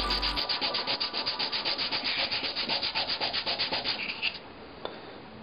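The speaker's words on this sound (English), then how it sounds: "Sand it flat again" Metal being rubbed flat on sandpaper for a pinhole camera, about twenty quick, regular back-and-forth strokes, close and clear, stopping just before the end.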